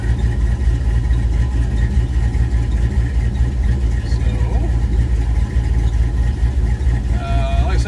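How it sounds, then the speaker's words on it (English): A car engine idles steadily up close, a continuous low rumble with faint mechanical clicks and a brief higher whine near the end. "it's idling happy at the moment"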